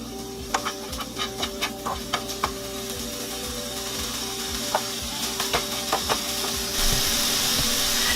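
Four strips of bacon sizzle and crackle in a pan, a steady frying hiss dotted with sharp pops and spits that come in irregular clusters, close and moderately loud.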